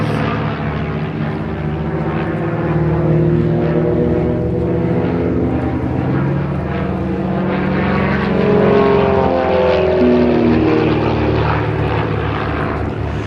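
Propeller aerobatic display aircraft flying a loop at the Abingdon air show, a continuous loud engine drone that swells and fades with shifting pitch as the plane climbs and turns.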